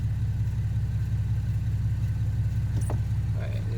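A 2010 Camaro V6 with a straight-piped custom exhaust and new midpipe idles with the windows down in the rain, giving a steady, loud low rumble throughout, with a brief faint higher noise near the end.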